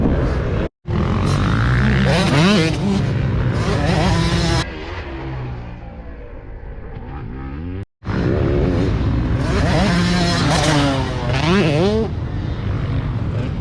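A dirt bike on a jump course revs hard in loud, close bursts, its engine pitch sweeping up and down on the throttle, cutting out briefly twice before roaring back.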